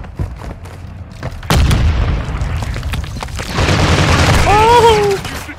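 Detonator-triggered explosion in the Modern Warfare 2 campaign: a sudden loud boom followed by sustained rumbling debris and blast roar, with voices talking around it and a brief whine near the end.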